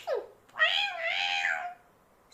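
A cat gives a single drawn-out meow lasting over a second, clear and close, preceded by a short higher squeak, with no other voices.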